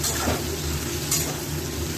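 Onions frying in a pan alongside chicken, a steady close sizzle with brief stirring scrapes and light utensil clicks over a low background hum.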